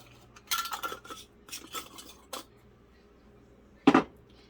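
A teaspoon scrapes and taps inside a jar while scooping turmeric: a cluster of light metallic clinks and scrapes, a short pause, then one sharper clink against the jar, close and quiet.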